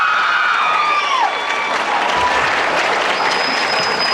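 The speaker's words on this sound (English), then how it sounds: "Give Morelli one more round of applause." Loud, sustained applause from a large crowd at a high school athletic banquet fills the whole stretch, with a few faint whistles cutting through the clapping.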